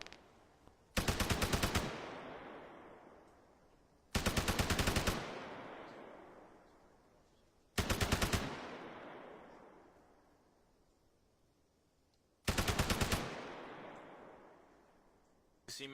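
Four long bursts of rapid automatic video game machine gun fire, each ending in a fading rumble, separated by pauses of a few seconds.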